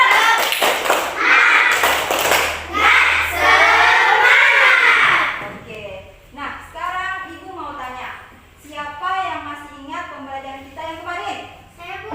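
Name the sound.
class doing the spirit clap (tepuk semangat)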